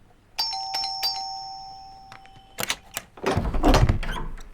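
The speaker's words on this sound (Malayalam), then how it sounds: "എത്ര നേരം ബെല്ലടിച്ചോ?" A house doorbell rings in a Malayalam film scene. Two clear electronic chimes sound early, then a fainter third follows, and footsteps and a door rattle come after them.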